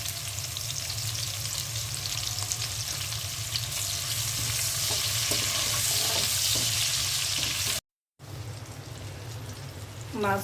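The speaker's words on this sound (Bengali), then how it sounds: "মাছ ভাজা সরিষার তেলের মধ্যে আমি পেঁয়াজ দিয়ে দিয়েছি।" Chopped onions fry in hot mustard oil in a pan just used for frying hilsa fish, giving a loud, steady sizzle throughout with faint stirring, briefly cut off near the end before resuming.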